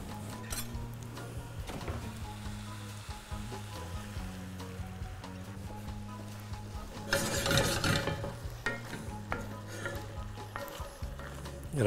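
Pasta tossed with pesto sauce in a cast iron pot, a steady close stirring and scraping with a soft sizzle underneath and a louder burst of rattling agitation partway through.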